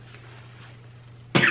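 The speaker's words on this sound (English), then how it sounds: "If you're going to cough the whole time, you got to get out of here." A person gives a single short, sharp cough, close and loud, breaking in abruptly at the very end after a quiet indoor stretch with a low steady hum.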